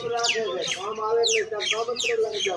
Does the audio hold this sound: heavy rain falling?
no